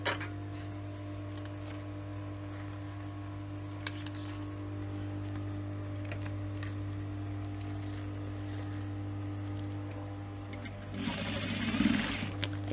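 A sewing machine hums steadily as it stitches around the top of a fabric cosmetic pouch, a close, even motor whir running for most of the stretch before some handling and rustling near the end.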